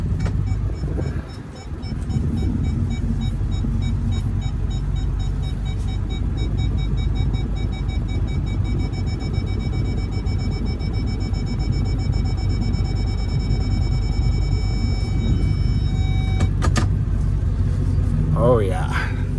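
A big long truck reversing out of a shop, with a steady engine rumble and a continuous electronic backup beeping throughout, loud and close, with a voice briefly heard.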